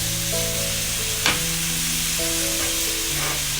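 Mixed vegetables for spring rolls stir-frying in a pan over medium flame, giving a steady, fairly loud hiss with one brief scrape of a utensil partway through.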